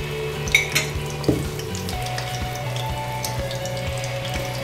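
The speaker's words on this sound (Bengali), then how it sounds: "সো আমি গোল গোল করে তেলের মধ্যে ছেড়ে দিয়েছি, ব্রাউন কালার করে ভেজে নিতে হবে।" Chicken meatballs frying in hot oil, a continuous close sizzle with a few sharp clinks of a utensil against the pan early on and no speech.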